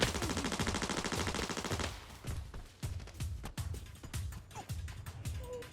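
Sustained automatic gunfire in the shooter game Arena Breakout on the Armory map, a dense rapid burst for about two seconds, then scattered single and short bursts of shots at varied distances, loud and without talk.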